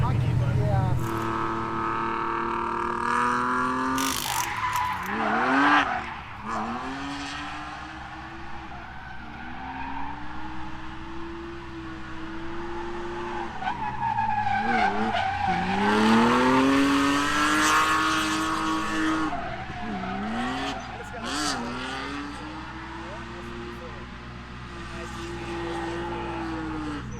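A drift-school car runs a lap with long tire squeals and skids rising and falling as the engine revs, loud and continuous over about half a minute, with voices now and then.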